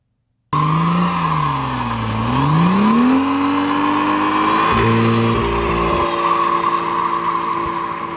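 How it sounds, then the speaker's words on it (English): A BMW with M Performance add-ons and a B58 3-liter turbocharged straight-six accelerates hard, engine note rising and falling through gear changes, with tire squeal, loud and close, alone with no talk. "Under the hood is BMW's new B58 3-liter turbocharged straight-six engine."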